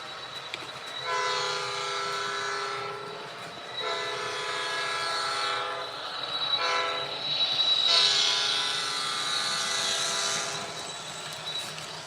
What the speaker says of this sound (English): It's not often that you get an Australian horn as an option on an American locomotive.